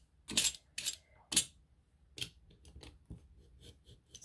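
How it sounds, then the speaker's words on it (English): A freshly changed sharp blade slowly cuts down handmade baking journal pages, giving several distinct close scraping slices with quiet gaps between them. "And then I just slowly cut the pages down."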